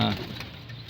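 Young pigeons cooing softly in a backyard loft on a fine morning, a brief low coo close by over faint background noise.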